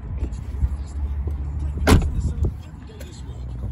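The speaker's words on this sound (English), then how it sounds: "And open the back door with this handle here." A BMW i3 Range Extender's back door unlatches with a sharp mechanical click and opens, followed by a softer thud, amid low background rumble and a nearby voice.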